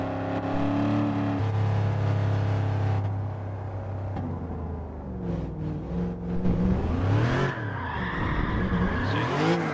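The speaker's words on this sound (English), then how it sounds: "I should just let the car drift as is." A car drifts in a driving video game, tires skidding and squealing continuously while the engine revs and roars, loud and close throughout with sweeping pitch changes toward the end.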